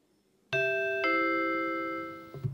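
A gong chime in a ceremony hall at an anniversary celebration rings out in two clear, sustained metallic strikes about half a second apart, the tones slowly fading before faint background noise returns.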